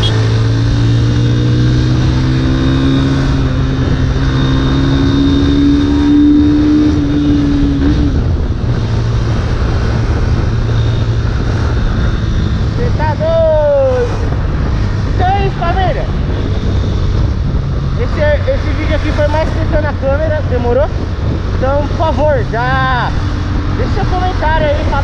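A motorcycle engine drones loud and constantly from on board, captured on a GoPro Hero 5 Black while riding, its pitch sliding up and down with speed changes as a rider's voice comes and goes over the roar and wind.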